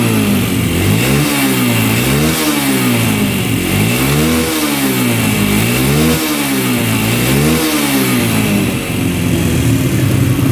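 A $500 quad ATV engine with a fuel-starved fault runs with the choke on, revving up and down in a steady repeating rhythm, loud and close throughout with no talking.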